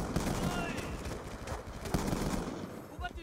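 Rapid M8 burst-rifle fire in Black Ops II, dense overlapping shots through a busy multiplayer match, loud and continuous with game noise and background voices.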